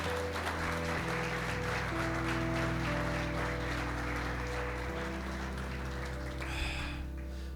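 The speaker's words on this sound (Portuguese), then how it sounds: "Você pode aplaudir o Senhor bem forte" A church congregation applauds during a service, a soft, continuous wash of clapping over sustained keyboard tones, fairly quiet and even throughout.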